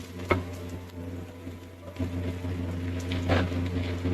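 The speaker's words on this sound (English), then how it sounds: "turn on that fan. Hopefully it's not too loud." Kitchen stove fan humming steadily while a full breakfast fries in a pan, a low droning whir with soft sizzling and a couple of sharp utensil clicks, no talking.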